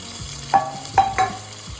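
Coconut paste frying with spices for a fish gravy, a low steady sizzle close by with three distinct utensil knocks against the pan and no voices.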